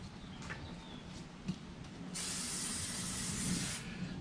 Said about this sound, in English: I like the aerosol wax and grease remover because it's less waste than pouring it on a rag out of a can